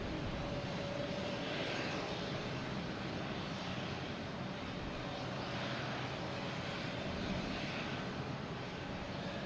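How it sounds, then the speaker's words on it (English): A JetBlue Airbus A321 arriving at Boston Logan from Las Vegas gives a faint, distant, steady engine roar that rumbles on without a break. "We have a JetBlue A321 coming in from Las Vegas, flight 978"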